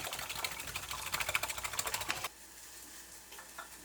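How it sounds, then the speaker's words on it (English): Eggs are whisked rapidly in a bowl, making a fast, even run of ticking clicks up close. The whisking then stops abruptly, leaving a quieter room with faint stray clinks. "Now I'm gonna beat the hell out of these eggs."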